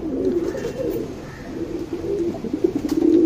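Pet pigeons, a Guldar male and a Makshi female, cooing in soft, low, repeated throaty phrases close by, with steady background noise and no talking.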